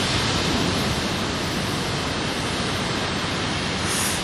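Continuous broadband rushing wash of surf on the beach at Santa Monica, California, steady and fairly loud, with no talking.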